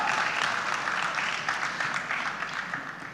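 A live audience at a talk-show event applauds, a steady wash of many hands clapping that stays fairly even, then gently tapers off.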